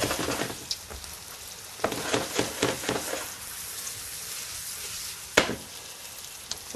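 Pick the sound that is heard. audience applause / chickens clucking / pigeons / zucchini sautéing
zucchini sautéing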